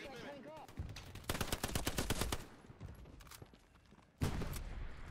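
Gunfire from the Hell Let Loose World War II shooter: bursts of rapid shots come mostly in the middle stretch, with a fresh volley near the end, some close and loud, while players talk faintly.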